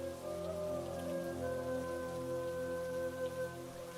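Steady rain patters continuously at a soft level, with a sustained tonal hum or music droning underneath.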